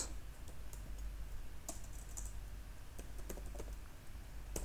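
Rapid, uneven typing on a computer keyboard while writing React Redux code, with sharp clicks and occasional louder keystrokes over a low background hum. Close and clear, with no talking.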